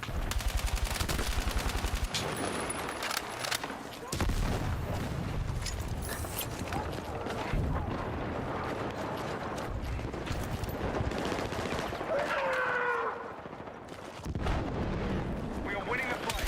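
Battlefield combat with gunfire and explosions: steady rattling automatic fire and rumbling blasts throughout, a dense continuous battle din with voices talking over it.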